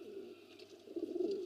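Gola pigeons, an old local breed kept in a home pigeon loft, coo softly in low, murmuring bursts that swell slightly toward the end, fairly close, with no talk.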